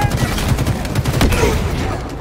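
Rapid gunfire in Halo Infinite multiplayer, a dense rattle of close, loud shots packed into a couple of seconds with game effects underneath.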